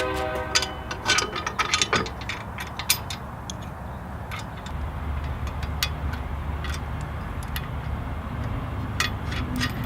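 A provided wrench tightens carriage bolts on a fat tire bike rack, giving repeated close ratcheting clicks and metallic creaks in irregular bursts over a steady low background hum.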